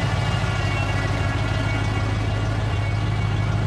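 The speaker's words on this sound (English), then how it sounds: "Listen to that exhaust." A Ford F-150 pickup truck engine idles steadily with a deep, rumbling exhaust drone, constant and close, with no voices.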